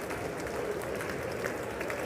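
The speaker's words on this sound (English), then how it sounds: "This is legit been like a 5 minutes of clapping." A large crowd at the State of the Union applauds continuously, a dense, even patter of many hands heard at a moderate distance, somewhat muffled and steady.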